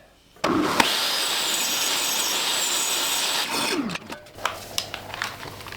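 A power saw trims 8mm off the side of a custom drawer insert, making one steady, loud cut of about three and a half seconds. A few light knocks and handling taps follow.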